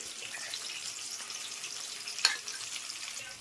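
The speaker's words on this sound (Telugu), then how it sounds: "ఇలాగ అంతా వేసుకున్న తర్వాత మనం బాగా వేయించుకోవాలండి" Masala paste fries in a pan for egg malai curry, giving a quiet, continuous sizzle and hiss with one brief clink partway through and no talking.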